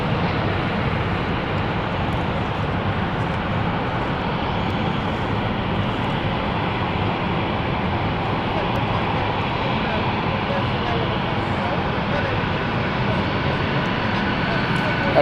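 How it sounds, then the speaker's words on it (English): A passenger jet sits on the runway at London City Airport, its engines giving a steady, broad roar that holds evenly throughout under light talk. "Florence flight is now on the runway. There we go. This might be a bit of a hold and then power up."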